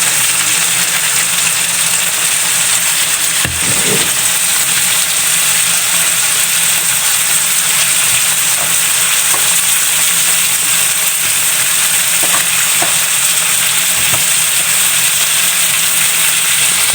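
Shrimp sautés in margarine in a pan, giving a steady, close hiss of frying throughout, with a few faint clinks and no talking.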